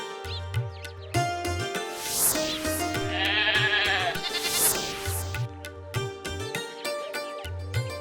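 Several goats bleat in a string of wavering calls, some overlapping, over a steady melodic background.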